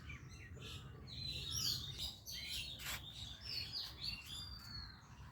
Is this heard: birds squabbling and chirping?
yes